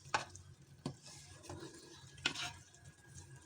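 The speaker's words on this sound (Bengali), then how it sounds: "এই জন্য আমি সরিষার তেল দিয়ে একটু নেড়ে এটা আমি একটু দমে দেবো" Khichuri made with chana dal being stirred in a pot with mustard oil, a few distinct scraping and knocking strokes over a low background sizzle, fairly quiet with no voices.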